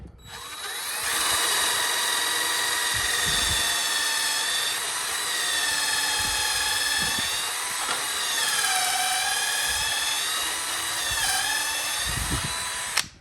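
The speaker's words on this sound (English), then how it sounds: "You set your drill bit and you start it in the jig." A power drill whines steadily at high pitch for several seconds, its tone dipping and rising as it bores through a drilling jig under load, with brief pauses.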